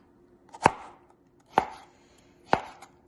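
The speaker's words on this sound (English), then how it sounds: "And this is to be chopped" Vegetables for a salad are chopped with a knife on a board: three crisp, evenly spaced chops about a second apart, close and clear against a quiet background.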